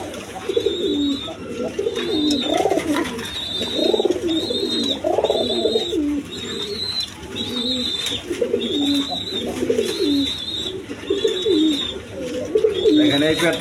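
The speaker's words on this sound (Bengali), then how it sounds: "এক পেয়ার কালারিং গোল্লা আছে, দেখেন গররা টাইপের কালারিং গোল্লা, গররা কবুতরের মতো আর কি" A pair of coloured gola pigeons of the gorra type coo close by in repeated soft, throaty phrases, with a recurring high chirp throughout against a steady background.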